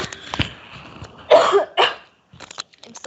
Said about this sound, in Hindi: सॉरी, थोड़ी खांसी हो रही है।